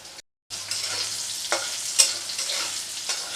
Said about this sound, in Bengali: দেখুন বেগুনগুলো কি সুন্দর ভাজা হয়ে গেছে